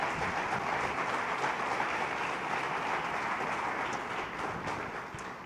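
A church congregation at an international conference in Honduras applauds steadily, a dense, continuous wash of many hands clapping that holds even throughout and fades slightly toward the end, with no talking over it.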